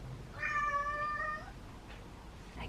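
A house cat gives a single clear, drawn-out meow indoors, moderately close, followed by faint room noise and a couple of small soft thumps.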